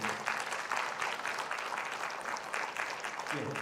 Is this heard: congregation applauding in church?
yes